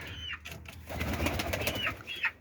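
Domestic pigeons cooing in a loft where young birds are kept, several soft rolling coos overlapping at close range, with faint rustling and no talk.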